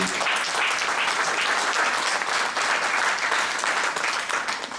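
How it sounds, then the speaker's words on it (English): A college audience gives a warm round of applause for a colleague: dense, steady clapping from many hands that fills the room for several seconds without a break. "can we just give her a round of applause?"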